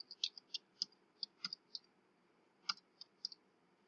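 A computer mouse clicks about a dozen times in a quiet room, each click sharp, close and soft, coming in irregular bursts with short pauses between them.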